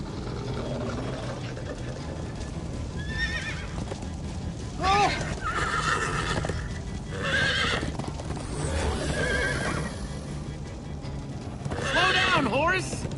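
Horses whinny several times over a steady clip-clop of hooves in Minecraft: Story Mode, with voices talking in between.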